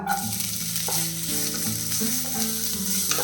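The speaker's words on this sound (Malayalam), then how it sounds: "ഈ സവാള ഒന്ന് നല്ല കളർ മാറി ബ്രൗൺ കളർ ആവുന്നത് വരെ നമുക്കൊന്നിത് വഴറ്റിയെടുക്കണം." Chopped onions for a Mughlai chicken handi curry sizzle steadily in a pan. A continuous close frying hiss runs throughout, with stirring and a tonal hum underneath.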